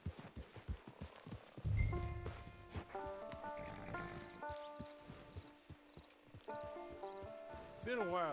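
Horse hooves clip-clop in Red Dead Redemption 2, a walking rhythm of hoof falls under game music and speech, fairly faint and close throughout.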